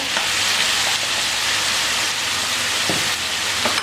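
Chicken with black pepper, turmeric, red chilli powder and salt frying for biryani, a loud continuous sizzle close up with occasional spatula scrapes against the pan, no voices.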